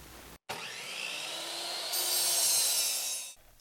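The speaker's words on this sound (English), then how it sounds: "With it chucked up in the lathe, I started cleaning and smoothing." Fruit tree wood spins on a wood lathe as it is cleaned and smoothed, a steady close hiss of cutting and sanding that swells louder midway and stops abruptly.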